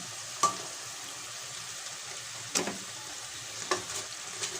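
Pieces of fried sweet potato drop into sizzling caramel with a steady frying hiss, marked by three distinct splashy bursts as they are added.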